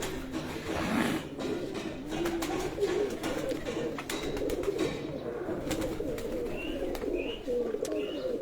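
Breeder pigeons on a rooftop, soft repeated cooing from several birds over a steady outdoor background, with a few higher chirps and faint wing sounds mixed in.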